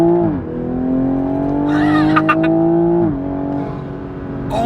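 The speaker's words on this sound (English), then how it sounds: "Oh, it sounds so crazy, especially the exhaust. It pops so much more." A 2021 Toyota Supra fitted with a downpipe revs hard and loud, its engine note climbing and holding steady before dropping off, while a burst of crackling exhaust pops and turbo flutter breaks through mid-rev.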